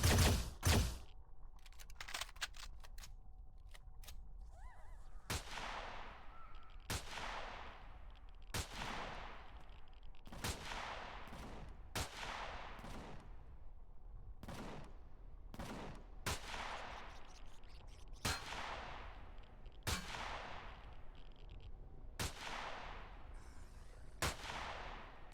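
Gunfire in the sci-fi game Empyrion Reforged Eden 2 at an abandoned power plant: a steady run of about a dozen sharp single shots spaced a second or two apart, each decaying quickly against a faint hum, with no talking.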